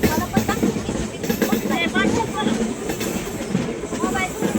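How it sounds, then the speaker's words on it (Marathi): A passenger train runs through a tunnel near Kalyan station, its wheels clattering in a steady rumble with faint squeals, while people talk over the noise. "ती बघा रेल्वे चालली चला की रेल्वे गेली पळून"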